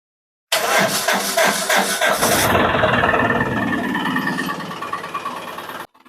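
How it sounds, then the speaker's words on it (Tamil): A used load vehicle's engine cranks and starts, then runs steadily and loudly close by, with rough mechanical knocking in the first seconds before settling into an even idle that cuts off abruptly. "வண்டியை ஸ்டார்ட் பண்ணுறேன் இன்ஜின் சவுண்டை செக் பண்ணிக்கோங்க"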